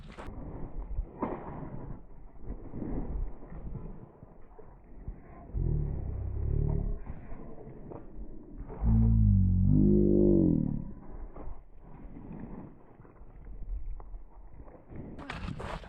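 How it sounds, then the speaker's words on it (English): Deep thunder rumbles during a severe storm with funnel clouds, building into a loud sustained roll around the middle before fading, with muffled rumbling and faint voices scattered throughout. "I think I got that on camera, the lightning strike"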